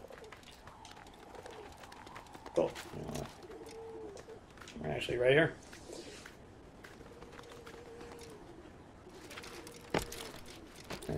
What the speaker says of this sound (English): Yeah, it sounds like a pigeon.